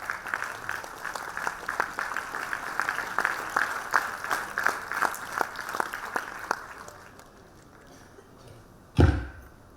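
A graduation ceremony audience applauding, a dense, lively clatter of many hands that fades out over several seconds, followed by a single sharp thump.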